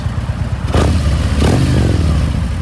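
A 2019 Harley-Davidson Street Glide CVO with a Stage 3 kit revs loudly and close by, with two sharp throttle blips rising and falling over a rumbling idle.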